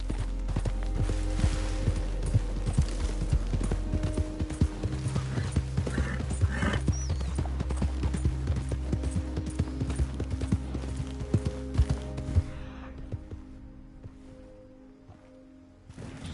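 Horse hooves galloping in a PS4 video game, a steady rhythmic clip-clop of close hoofbeats running throughout with brief whinnies and some background game sounds.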